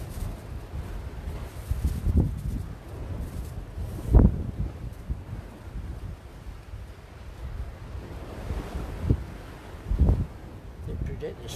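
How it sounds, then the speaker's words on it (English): Waves and strong wind on a coast at high tide, with a continuous rumbling wind buffeting the microphone and a few heavier surges of surf, close and loud throughout. "with the big tide it's bringing the wind in as well"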